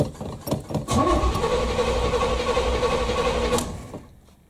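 A 1981 Chevy Malibu Classic engine cranks on a cold start, with a few brief starter bursts followed by a sustained, loud, close churning crank that drops away near the end.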